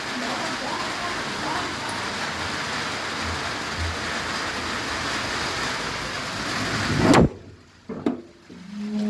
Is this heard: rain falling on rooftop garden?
yes